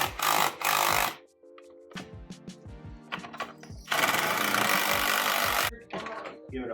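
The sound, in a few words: tightening ski bolts on a snowmobile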